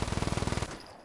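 Rapid automatic gunfire in Just Cause 3, a fast regular burst of about a dozen shots lasting over half a second, then a short echoing tail.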